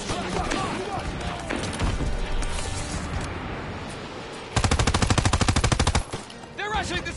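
Rapid machine gun fire in a Call of Duty World War II battle, a dense, loud burst of automatic shots over constant combat noise, with shouted voices earlier in the scene.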